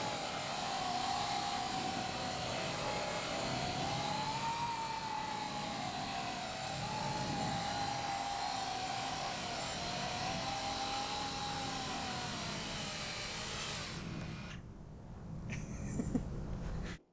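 A small experimental drone using the Coanda effect hovers at half throttle with a steady, wavering motor whine and broad airy rush that holds for most of the stretch, then drops off abruptly near the end.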